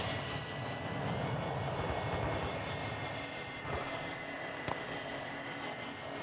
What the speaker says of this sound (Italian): Drone da ricognizione attivo.